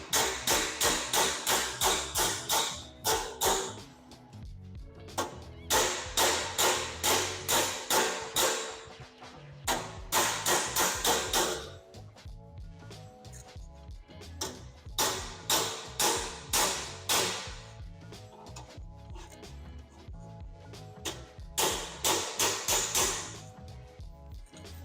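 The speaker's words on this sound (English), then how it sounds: "So we're just trying to hit it flat and stretch the weld out a little bit." Sharp metallic hammer blows flatten a MIG/TIG weld bead on roadster hood and cowl sheet metal. They come in rapid bursts of many close, loud strikes separated by short pauses, with no talk.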